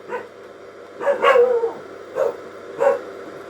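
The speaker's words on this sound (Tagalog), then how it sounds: "Ang ingay ng aso, ano ba yan?" A dog barks several times at uneven intervals, moderately close, with a steady low hum in the background.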